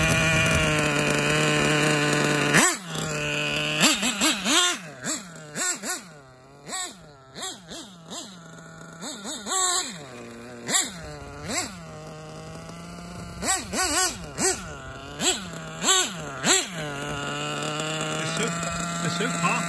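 A Novarossi Bonito 7-port nitro engine in a Kyosho MP9 buggy idles at low RPM during break-in, a close buzzing drone broken by repeated short throttle blips that rise and fall in pitch.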